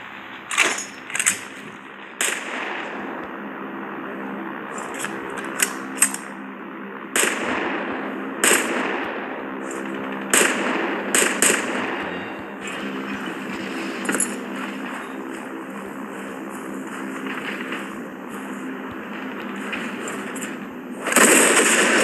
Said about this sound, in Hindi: अपने आप फायर करते हैं ना, सही है।